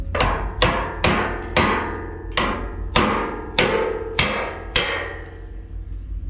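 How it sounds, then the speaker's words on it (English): 12-pound sledgehammer striking the boom pins on a 1995 Kodiak truck with a 57-foot National crane, about ten loud ringing metallic blows at an even rhythm, each decaying quickly, close and alone. "So you want to have a good 12-pound sledgehammer to do this."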